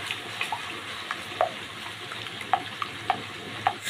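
Beaten egg with salt stirred in a pan: a faint, steady hiss with a few light, scattered spoon taps and clicks, and no voices.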